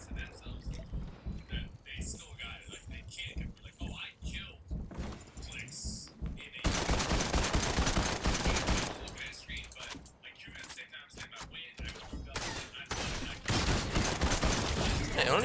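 Video game gunfire in Fortnite comes as scattered shots and then denser bursts of rapid fire, loud and close, mixed with game sound effects.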